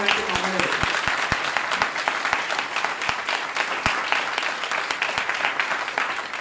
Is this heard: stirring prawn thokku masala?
no